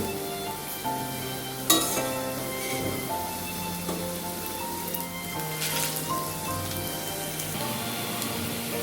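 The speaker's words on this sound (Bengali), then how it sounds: "লো টু মিডিয়ামে রেখে বড়াগুলো ভেজে নিচ্ছি" Lentil fritters (bora) frying in oil over a low-to-medium flame make a steady, soft crackling sizzle with a few brief louder clatters, while a faint tonal background hum runs underneath.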